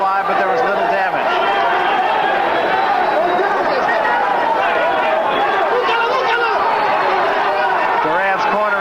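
A boxing arena crowd at the Wilfred Benitez vs Roberto Duran fight rises into a continuous roaring murmur, heard beneath steady commentary.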